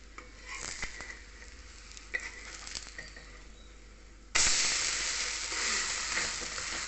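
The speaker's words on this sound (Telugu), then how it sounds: "చిన్నగా పెట్టి కాల్చుకుంటే బాగుంటుంది" Dosa-like batter made from moong dal roasting on a hot pan over a low flame gives a soft, faint sizzle with a few light clinks. Partway through, a louder, steadier sizzling hiss suddenly rises and continues to the end.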